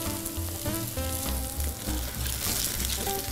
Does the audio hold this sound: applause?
no